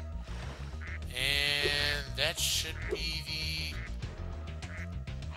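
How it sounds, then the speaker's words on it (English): Loud, repeated nasal quacks from a duck in the Spyro 2: Ripto's Rage video game sound over a bouncy game soundtrack, with someone briefly speaking. "Now the duck finally spits it out"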